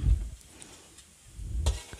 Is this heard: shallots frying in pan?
yes